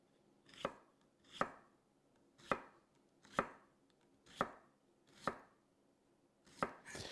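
A knife chops onions on a cutting board in eight distinct, evenly spaced strokes with brief pauses between, close and crisp, with no talking.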